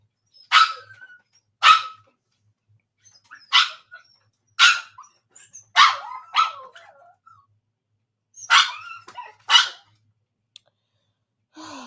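Puppies give a series of sharp, high yaps spaced a second or two apart, about nine barks in all, close and clear over near silence, with small snuffly breathing sounds between them.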